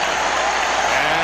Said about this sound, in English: here's the applause